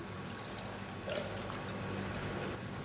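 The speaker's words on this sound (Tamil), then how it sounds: "இப்போ தேவையான அளவுக்கு தண்ணி சேர்த்துக்கலாம்." Water is poured into sambar ingredients in a pressure cooker, a soft, steady trickling close by that lasts a few seconds.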